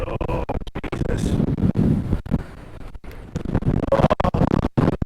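Strong coastal wind buffets the microphone throughout, a loud continuous roar with gusty surges and rumble while fishing for bass at Witches Point, South Wales, with brief sounds of handling mixed in.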